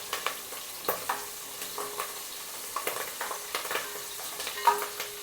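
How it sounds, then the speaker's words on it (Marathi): Green chilies frying in oil over medium heat while being stirred, soft steady sizzle with scattered light scrapes and taps of a spoon against the pan, fairly quiet and close, no talking. "आता मिरची पण आपण चांगली तळून घेऊया तेलामध्ये मिरची छान भाजून घेऊया तेलामध्ये"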